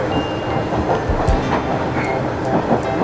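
A two-car JR Hanawa Line local train runs through rural Tōhoku, heard from on board as a steady rumbling roar with faint rhythmic wheel clicks and a few light squeals.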